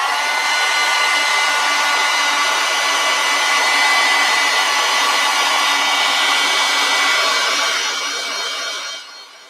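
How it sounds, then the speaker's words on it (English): A hair dryer blows steadily across wet acrylic paint, a loud continuous whirring rush for several seconds that fades slightly near the end. "going to dry this area before I play with it"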